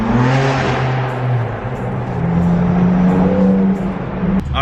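A BMW M4 drives along near a tire shop, heard from close range. Its engine revs rise and fall through a couple of gear changes before a brief thump at the end as it pulls up.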